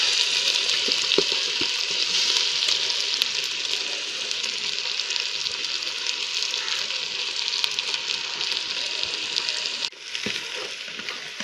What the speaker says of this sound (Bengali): টমেটো, মরিচ, পেঁয়াজ এবং পাঁচফোড়ন দিয়ে এটাকে ভাজা ভাজা করে নেব।